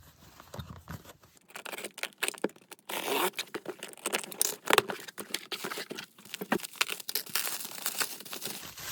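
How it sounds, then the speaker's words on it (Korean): K-pop album digipak packaging is torn open and handled, with close crinkling, tearing and rustling in irregular bursts over a quiet room. "디지팩 3개선 나와가지고 한번 뜯어볼게요."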